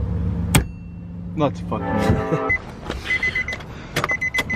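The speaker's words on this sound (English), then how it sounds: "Your fucking windshield wiper is louder than your car?" Electric windshield wiper motor on a Nissan 350z whirs in rising and falling sweeps with short repeated mechanical pulses, close and fairly loud, while people talk and swear over it inside the car.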